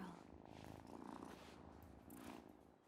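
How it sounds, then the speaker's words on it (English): A cat purrs steadily and close up in the video game Wylde Flowers, a continuous soft rumble that runs throughout, with a voice briefly talking over it. "The purring is cute."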